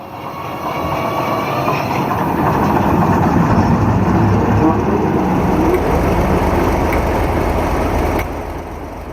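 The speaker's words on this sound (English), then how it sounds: "So let's get the engine started." A Class 58 diesel locomotive in the Train Simulator game starts its engine, a loud, steady mechanical rumble and whine that holds for several seconds before dropping away near the end.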